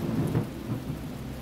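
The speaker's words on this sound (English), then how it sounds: "I really feel like I'm just walking out in the rain." Steady rain and low rumbling thunder in the video game The Talos Principle, a dense wash of downpour with a swell of rolling thunder near the start, continuous and fairly close with no voices.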